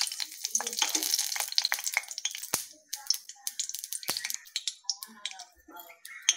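Mustard seeds splutter and pop in hot oil in a kadai, a dense run of sharp crackles that thins into scattered, irregular snaps, close and fairly quiet.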